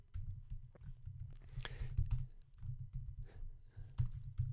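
Someone types code on a computer keyboard, producing a close, continuous run of quick, uneven key clicks and thumps with short pauses, and no talking.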